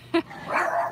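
Dogs in a home setting give one sharp near bark followed by a softer whine-like yelp over low room noise.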